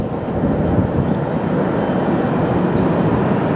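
Steady, loud aircraft engine roar at LAX, a broad continuous rumble heard from close by with no break throughout.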